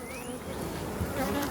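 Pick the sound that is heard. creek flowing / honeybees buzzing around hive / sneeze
honeybees buzzing around hive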